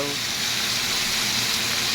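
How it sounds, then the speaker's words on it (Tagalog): Steady, loud sizzling and crackling of pork frying in a pan, continuous throughout. "Tamang prito lang"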